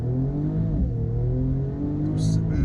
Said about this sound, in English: So let's do a launch start here.